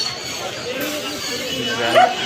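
A dog yips and whimpers in short, close bursts, mixed with people talking nearby, at a place selling dogs and cats.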